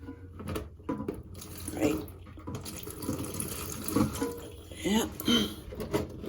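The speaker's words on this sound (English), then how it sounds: "make sure my bucket is right there to catch all that water" During a toilet fill valve replacement, water splashes and trickles into a bucket in uneven bursts close by, while a person briefly speaks over the pouring.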